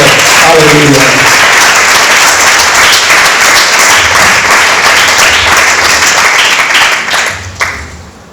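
A church congregation at a pastors' and workers' gathering in Valencia bursts into loud, close applause, dense clapping running for several seconds before tapering off near the end, with a voice audible at the start.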